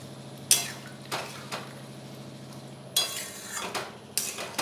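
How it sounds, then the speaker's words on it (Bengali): A ladle stirs mustard-spice paste through potatoes and vegetable stems in a pot, giving a few spaced scraping strokes and clinks over a low, steady simmering hum. "নাড়াচাড়া করে ভালো করে ফুটিয়ে সেদ্ধ করে নেব"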